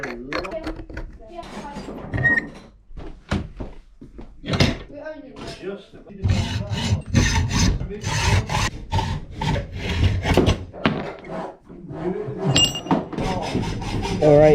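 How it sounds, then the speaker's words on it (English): Steel angle iron, an L bracket, is being cut for a steel phone stand build: loud, close, irregular rasping strokes in bursts with short pauses, and a voice is heard between and over them. "I've got this L bracket or angle iron, and I'm going to cut out a chunk of that"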